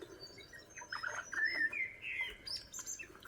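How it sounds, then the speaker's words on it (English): Parrots call in a garden, a few chirps and squawking screeches rising and warbling over a couple of seconds, faint and somewhat distant, with no talk. "I'm being entertained by the parrots in the background of my beautiful garden studio,"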